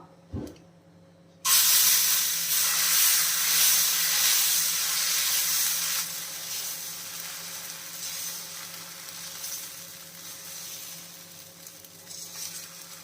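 Green gram dosa batter hits a hot dosa pan greased with a little oil. After a brief click and a moment of quiet, a loud sizzle bursts in, then hisses on steadily and slowly eases.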